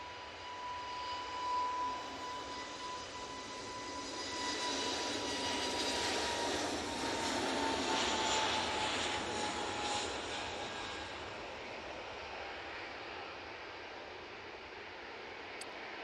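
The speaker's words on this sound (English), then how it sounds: "Another Jet2 A320neo going out next" Jet2 Airbus A320neo airliner departing Manchester Airport, a steady broad jet roar swelling to a peak mid-way and slowly easing off at moderate distance, with no voices.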